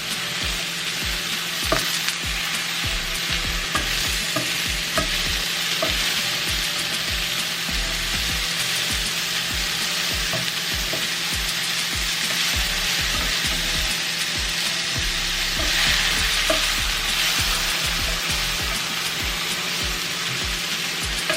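Sweet potato and mushrooms fry in a pan over a lowered flame, a continuous close sizzle broken by frequent scraping and clicking stirring strokes throughout.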